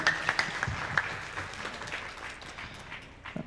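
Applause for Mbak Uswah at a year-end Islamic school gathering, a burst of scattered clapping that is fairly strong at first and then tapers into a thinner, steady patter.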